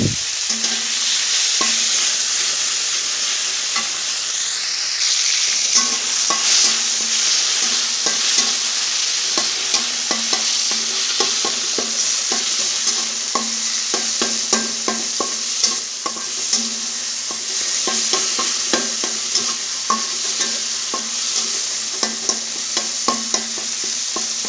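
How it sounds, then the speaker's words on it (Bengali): Tomatoes fry in a pan under a steady bright sizzle while a utensil stirs and scrapes in irregular clicks and knocks, close up with no talking. "এবার আমি এর মধ্যে টমেটো দিয়ে দেব। টমেটোটাকে আমি সুন্দর করে ভেজে নেব।"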